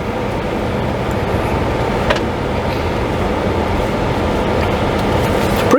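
A 2022 Jeep Wagoneer Series III large SUV turning around, heard from inside as a steady low road and engine rumble with a couple of faint clicks, no talking.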